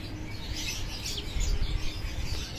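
Chirping from released racing pigeons in Lopez, Quezon: faint bird calls float over a low rumble of wind and handling noise.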